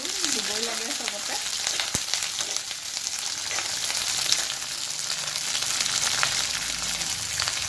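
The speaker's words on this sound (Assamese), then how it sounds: "এইখিনি অলপমান ভাজি ল'ম," Curry leaves and mustard seeds fry in hot oil for a South Indian dish, giving a constant crackling sizzle that stays steady throughout, with a voice briefly speaking at the start.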